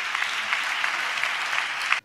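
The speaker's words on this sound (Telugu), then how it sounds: "గట్టిగా చప్పట్లు కొడుతూ స్తోత్రాలు చెప్దాం" A church congregation claps loudly and continuously during a sermon, a dense wash of applause that stops abruptly after about two seconds.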